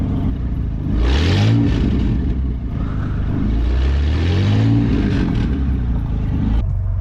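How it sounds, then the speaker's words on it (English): A truck engine revving in a driveway, with repeated rising and falling throttle sweeps, loud and close, two main bursts of acceleration easing back to idle between them. "Rev it up a little, I wanna hear it."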